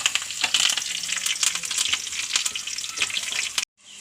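Curry leaves and softened onions sizzle in hot oil for the tempering of an egg curry with bilimbi, a dense, steady crackle that runs close and loud for most of the stretch, then cuts off abruptly near the end.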